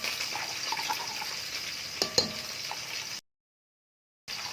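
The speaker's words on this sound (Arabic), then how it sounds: "ننزل بالثوم اللي احنا فرمناه والكزبره" Minced garlic and coriander frying in a pan for a meatless moussaka, giving a steady close sizzle with a few brief clatters and stirring scrapes, then a sudden full silence before the frying resumes.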